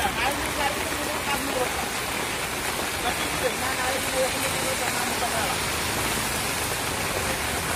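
A heavy monsoon downpour pours over Karad town in Maharashtra. It gives a loud, dense, unbroken hiss of rain close to the listener, steady from start to finish.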